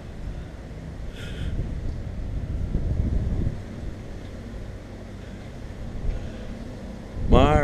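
Strong wind at an airfield buffets the microphone in low rumbling gusts, with a voice briefly audible beneath it.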